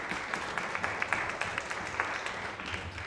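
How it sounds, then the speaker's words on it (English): A crowd at a students' union political debate claps steadily throughout, a dense patter of many hands at moderate volume, heard from within the room. "I'll have a round of applause."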